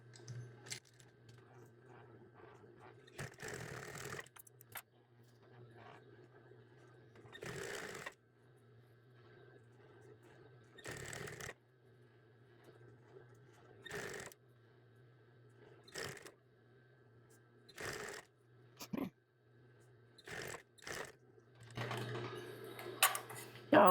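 A sewing machine stitches across a cat-themed hooded towel in several short bursts of rapid mechanical whirring, with quiet pauses and low hum between runs, close and fairly loud.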